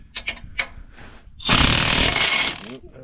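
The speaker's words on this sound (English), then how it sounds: "There's my wrench." A wrench tightens a bolt while Bilstein shocks go onto a 2021 GMC 3500 AT4 pickup: a few quick metallic clicks, then about a second of loud grinding ratchet-like whir close up, fading out.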